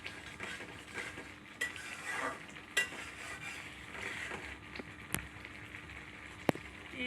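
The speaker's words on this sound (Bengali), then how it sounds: "হালকা পানি দিয়ে দিলাম ভালো করে মশলা কষিয়ে নেব এখন" Spice masala fries in oil with a splash of water while being stirred, a low steady sizzle broken by sharp clinks and scrapes of a utensil against the pot, close and quiet.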